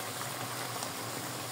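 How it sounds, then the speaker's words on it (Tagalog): Water sizzles and bubbles as pork steak cooks in a pan, a dense, steady hiss and crackle that fills the whole moment without a break. "dagdagan natin ng tubig."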